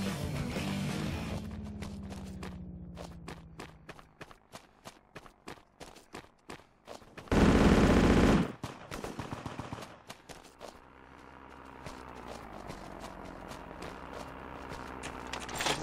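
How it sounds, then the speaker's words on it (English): Rapid bursts of MG42 machine gun fire in the WWII shooter Honor and Duty: D-Day, loud sharp repeated shots in long strings, broken by a brief dense roar of noise and other battlefield sounds. "MG42 is a lot of fun too"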